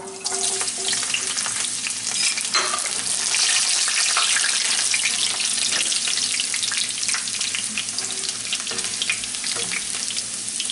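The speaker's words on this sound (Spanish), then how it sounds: "vamos a freír los ajos" Garlic frying in a pan for a soup, a loud dense sizzle that crackles steadily throughout with occasional stirring clatter, close up and without talk.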